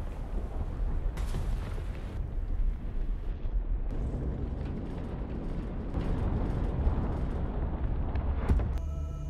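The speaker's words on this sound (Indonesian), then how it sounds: "Lalu, bom! Ledakan tersebut sampai melemparkan badan Clara." A heavy bomb blast in a film bursts into a long, loud rumbling roar that churns steadily for several seconds, close and powerful.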